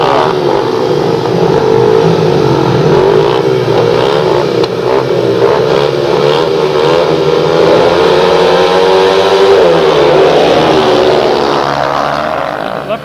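Speedway motorcycles race in a Premier League meeting between Monarchs and Reading, a dense, continuous roar of several engines with rising and falling pitch as they sweep past, heard from trackside at steady high volume.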